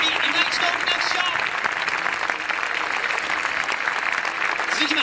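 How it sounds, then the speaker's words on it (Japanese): Stadium crowd applause for football player Koike after a J1 Yokohama F. Marinos match, a dense continuous roar of clapping from the stands, steady for five seconds with faint crowd noise mixed in. "小池選手に今一度拍手"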